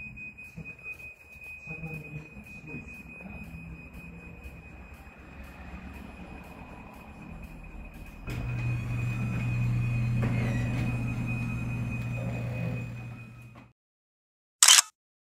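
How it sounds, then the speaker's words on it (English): A myQ-connected garage door closes, with a steady motor rumble rising partway through and running for several seconds before stopping, followed by a short sharp sound at the end; an earlier tone may be a warning beep. "the garage door will close again after some beeping sound"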